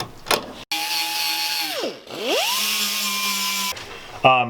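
A power drill whines up and bites into the steel of a high-roof Ford Transit van in two long bursts, its pitch sagging under load between runs, loud and close.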